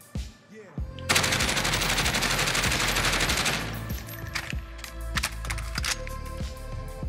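Rapid automatic gunfire from a Call of Duty Warzone weapon fitted with a Ranger foregrip and Archangel barrel: one sustained loud burst, then scattered shorter shots and clicks.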